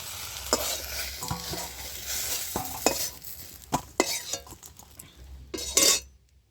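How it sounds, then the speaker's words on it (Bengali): Eggplant frying in oil in a pan, a soft steady sizzle under repeated clinks and scrapes of a utensil stirring against the pan. "এদিকে আমি বেগুনটা আমি ভেজে নিচ্ছি"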